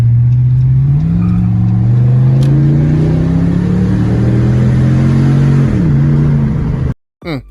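A 2025 Ram TRX pickup revs its exhaust close by, a loud steady engine drone that climbs in pitch over several seconds, dips, then cuts off abruptly near the end.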